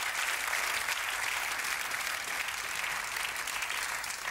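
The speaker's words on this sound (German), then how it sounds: "Applaus." Sustained applause from a German late-night television studio audience, dense and steady throughout at an even level, with no pauses or talk over it.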